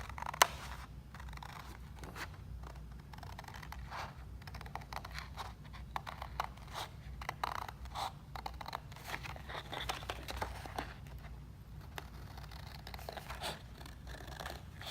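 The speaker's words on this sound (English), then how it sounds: "all I need to do now is cut this template" Scissors cutting through a paper box template, a steady run of small snips and crisp rustles close by, continuing without pause and with no talking.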